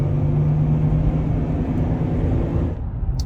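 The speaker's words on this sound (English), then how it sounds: "So let's go ahead and keep driving this thing and see how it picks up." A Chevy TrailBlazer with the 4.2 inline-six drives along, giving a loud, steady engine drone and road rumble that drops off abruptly near the end, with no talking.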